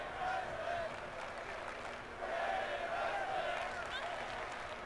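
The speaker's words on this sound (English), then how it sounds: "And we got a women's wrestling chant here at SmackDown" A large arena crowd at a SmackDown women's wrestling match in the WWE 2K22 video game chants in a steady, distant, rhythmic roar that swells and dips, with a commentator talking over it.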